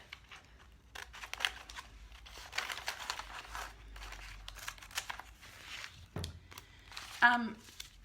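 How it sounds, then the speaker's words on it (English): Scissors cut carefully around a rub-on decor transfer sheet, giving continuous close crinkling and rustling of the thin film with a sharper snip near the end. "just get your scissors and cut a bit out"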